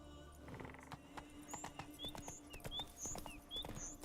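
Hooves of the horse Roach in The Witcher 3 clip-clop in a steady walking rhythm at a quiet level, with faint creaks and birdlike chirps over them.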